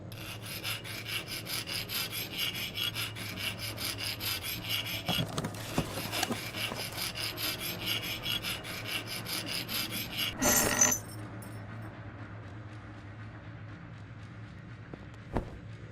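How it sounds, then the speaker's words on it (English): A hacksaw rasps back and forth in steady rhythmic strokes inside the indie horror game April 86, over a low ambient hum; a short louder burst follows before the sawing stops and quiet ambience remains. "I just so happen to have a hacksaw."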